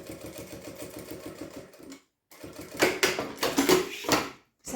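A sewing machine stitching a straight seam through PVC sheet, fast rhythmic needle chatter close up that breaks off in short pauses and resumes louder, no voices.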